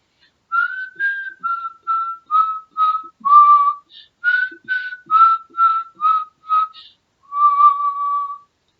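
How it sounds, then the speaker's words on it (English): Someone whistles a slow, steady run of short notes, about a dozen, ending on one longer held tone, clear and close. "Try whistling."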